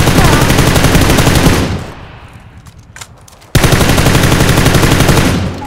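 Bursts of rapid automatic gunfire ring out in a PUBG match, loud and close, with a sustained volley cutting off into a brief lull of scattered distant shots before another long burst resumes.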